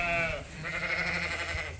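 Bottle lambs bleating while being moved out of their pen on a sheep farm, with several overlapping high, wavering bleats close by, loud and continuous throughout.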